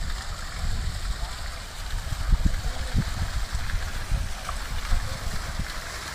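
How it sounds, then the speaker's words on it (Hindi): Water pours and splashes steadily from above, a continuous rushing wash with soft low thuds running through it. "ऊपर से पानी गिर रहा है बढ़िया।"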